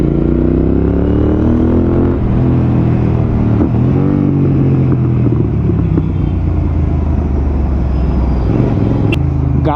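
A Royal Enfield GT650 twin-cylinder motorcycle riding at speed, its steady engine drone and exhaust rumble continuous and loud, with faint shifts in pitch as the throttle varies, alone without talk.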